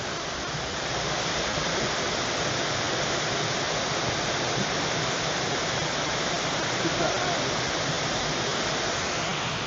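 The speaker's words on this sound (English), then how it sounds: "they call this a rainforest for a reason. And it actually is raining." Rain falling in a Puerto Rico rainforest near San Juan, a dense, steady hiss of drops on leaves and surfaces that stays loud and even throughout, with no pauses.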